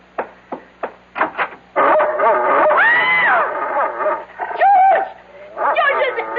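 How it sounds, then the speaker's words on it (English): A big dog in a mystery radio drama, a series of close yips and barks building into drawn-out whining howls and whimpers, loud and alone without talk. "There's a dog on our bed. A horrible big dog."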